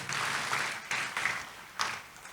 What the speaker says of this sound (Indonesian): Tepuk tangan dulu dong buat Tuhan kita.